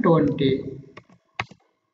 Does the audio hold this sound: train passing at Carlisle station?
no